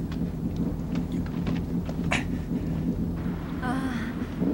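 Steady rain hisses continuously, full and close, with a low rumbling undertone and a brief brighter splash partway through.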